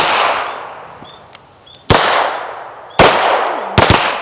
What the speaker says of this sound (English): I want you guys all to see the difference in shooting them